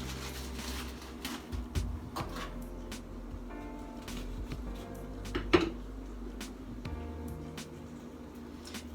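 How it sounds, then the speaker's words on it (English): An onion being cut into large pieces for kebabs: a run of knife taps and clunks on a board with scattered clatter, moderately close, no voices. "And then cut some onion."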